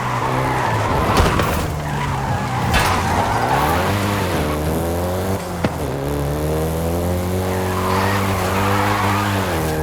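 A Volkswagen Golf GTI in Forza Horizon 5 skids with long tire squeals over a steady, loud engine drone whose pitch rises and falls as the car revs.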